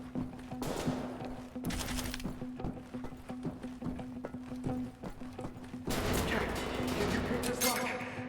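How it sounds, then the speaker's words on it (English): Gunfire in Wolfenstein: The New Order crackles in repeated bursts of sharp shots, thinner at first and then denser toward the end, over a steady low hum. "Why are you shooting at me?"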